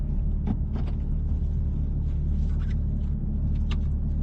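Steady low engine rumble from a Porsche GT3 RS at the Lohéac circuit, a continuous droning hum with no distinct revving peaks, heard from a distance or from inside.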